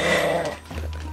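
A Yorkshire terrier at a kennel gives a short close growl, a low rumbling snarl that tapers off into a softer low hum.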